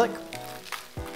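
Garlic frying in a pan with chorizo and onion for chicken paella, a brief close sizzle with a quick stir, lasting about a second.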